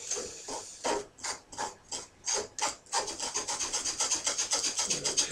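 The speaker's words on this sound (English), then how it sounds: "we're just sieving the flour through the sieve, so it's coming out very finely" Flour is worked through a sieve in rhythmic scraping strokes, slow and spaced at first, then quicker and more even, close up and fairly soft, with no voices.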